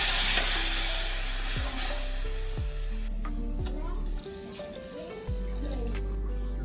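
A paste of tomatoes, mint, cumin and garlic sizzles loudly in a hot pan, with steady close frying noise and occasional sharp clinks of a spoon stirring against the vessel.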